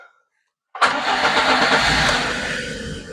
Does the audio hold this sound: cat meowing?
no